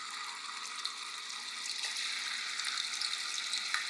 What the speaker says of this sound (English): We're going to fry our tofu on medium heat until it's golden brown.